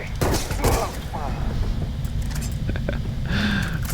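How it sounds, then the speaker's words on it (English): Solstice laser pistol shots in Starfield, a few sharp energy blasts over a steady combat soundscape with game music and ambient hum, fairly loud and continuous. "So that is the Solstice laser pistol"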